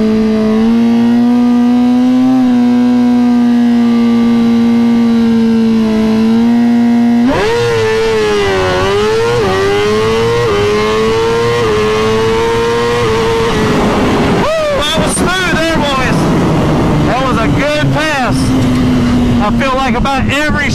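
A 2020 Suzuki GSX-R1000 sport motorcycle on a track day, held at about 7,500 rpm for a launch, then pulling away hard through rising, falling engine pitch across shifts, loud and close throughout.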